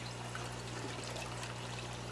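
A steady, continuous pour of vinegar eel culture into a container, an unbroken liquid trickle close by for a couple of seconds, with a low hum underneath and no talk.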